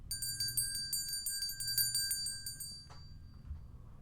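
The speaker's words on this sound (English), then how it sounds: "Here is your bell." A bright bell sound effect rings out on a gaming stream, its shimmering tones repeating in quick strikes for nearly three seconds before cutting off, leaving faint low background rumble.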